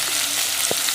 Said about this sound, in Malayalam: മൂക്കട്ടെ കേട്ടോ, ഇതാ മൂക്കട്ടെ.